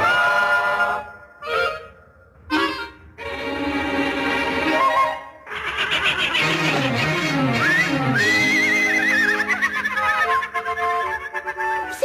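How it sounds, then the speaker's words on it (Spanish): A horse in an animated Cinderella scene gives a loud whinnying neigh that rises and falls, mixed with bright orchestral music and swirling sparkle effects. "No puedes ir al baile sin un caballo."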